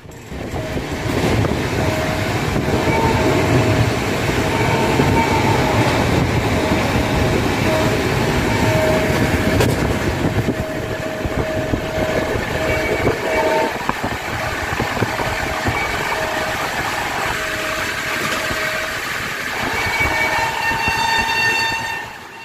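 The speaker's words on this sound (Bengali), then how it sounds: "তারপরেই প্রায় 2 ঘন্টা 45 মিনিট পর্যন্ত চলল এই ট্রেনটির প্রবল বেগে তাণ্ডব।" The Patna Jan Shatabdi express train runs at high speed, producing a loud, steady rolling rumble of wheels and carriages throughout, with sustained horn-like tones threaded through it.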